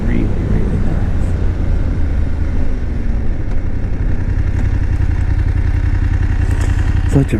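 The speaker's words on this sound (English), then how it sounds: "Such a pleasing sounding motor too." A BMW F750GS motorcycle engine runs steadily and loudly up close, a continuous rumbling, clattery drone throughout, with faint talk mixed in.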